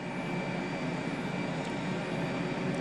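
Boeing jet engines spooling up as thrust is advanced in a flight simulator, a steady broad roar with a faint high whine that rises repeatedly, heard at a moderate level.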